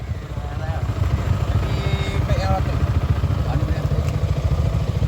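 A Yamaha Y16ZR motorcycle engine running with a steady, fast-pulsing low putter, close and fairly loud, while people talk over it.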